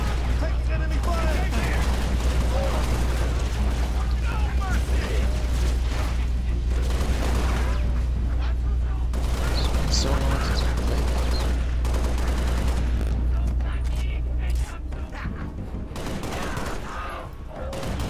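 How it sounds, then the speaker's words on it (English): Enemy gunfire in the Halo: Reach campaign on Heroic difficulty, a dense continuous crackle of shots and bangs over a steady low rumble, with voices speaking throughout. "Taking enemy fire!"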